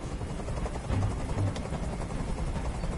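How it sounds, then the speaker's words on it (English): Steady chopping whir of a hovering helicopter in Detroit: Become Human, rumbling and continuous, fairly loud and close with no talking. "Tell that helicopter to get out of here."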